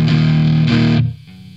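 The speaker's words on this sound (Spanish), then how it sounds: "si yo lo pongo todo para acá, va a estar como una distorsión" Electric guitar played through a BOSS OS-2 OverDrive/Distortion pedal set to distortion, a loud, thick sustained distorted chord that restrikes once before cutting down to a fainter ringing tail, alone with no talking.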